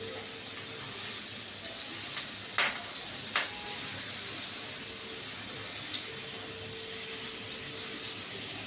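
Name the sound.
butter added to hot oil in pan for tandoori chicken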